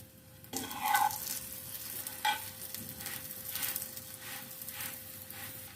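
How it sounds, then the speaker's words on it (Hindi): Radish paratha cooking in ghee on a hot griddle, a quiet crackling sizzle that swells when the flatbread is pressed or turned, with a steady low hum beneath. "दोनों साइड से हम फ्राई कर लेते हैं रोटी को।"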